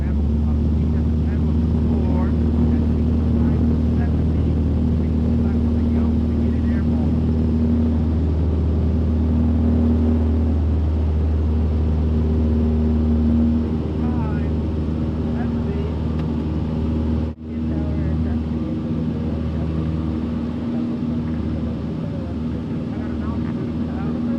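Small training aircraft engine droning steadily and close while taxiing at an airfield before pattern work, with a brief dropout midway; voices talk over the engine noise.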